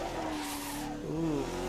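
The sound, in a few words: race car hitting a curb in Assetto Corsa video game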